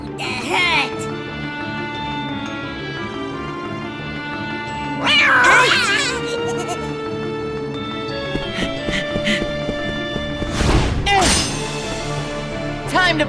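A cat meows and yowls in Kingdom Hearts Birth by Sleep, with repeated drawn-out cries over a steady bed of game music and a couple of louder bursts of action sound.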